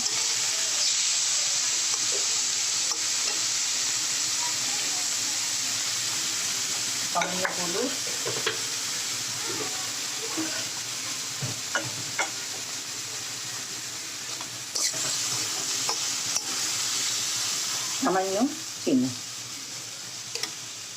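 Tomato added and stirred into a frying shrimp kofta curry: a steady sizzle and hiss of oil throughout, with intermittent scraping and clinking of a spoon against the pan.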